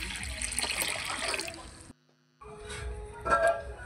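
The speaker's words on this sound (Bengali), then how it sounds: "কড়া বসিয়ে কড়ার মধ্যে জল দিয়ে দিচ্ছি" Water poured into a wok set on a lit stove, a rushing splashy pour that cuts off briefly and then resumes with more splashing toward the end.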